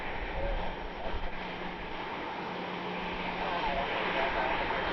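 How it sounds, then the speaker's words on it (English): Air Canada Jazz CRJ 900 regional jet taxiing to the runway for departure, a steady broadband engine roar and whine heard from a distance outdoors, with light wind noise throughout. "Air Canada Jazz 739 heading back to the runway for departure, CRJ 900."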